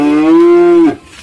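A Simmental cow gives a single loud, close moo lasting just under a second with a steady held tone, then breaks off into quiet background.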